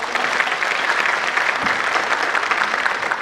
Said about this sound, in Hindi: तो एक बार मैं चाहता हूँ कि सुनील जी के लिए आप सभी तालियां बजाएं।